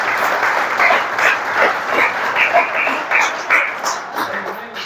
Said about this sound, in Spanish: Dale ese aplauso al Señor, con todo el cuidado.